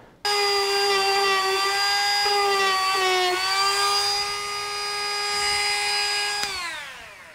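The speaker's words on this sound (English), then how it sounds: "See if we can just grind out a little groove." A rotary tool grinding a groove into a cracked plastic bumper on a Firebird, a loud steady high-pitched whine that starts abruptly, dips in pitch slightly under load, then winds down at the end.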